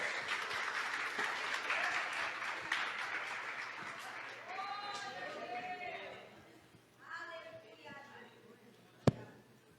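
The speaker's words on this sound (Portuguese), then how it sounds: "Aplauda seu Jesus mais uma vez" A church congregation applauds during a Pentecostal-style worship service, broad steady clapping filling the room and gradually thinning out, mixed with some voices, before a single sharp knock near the end.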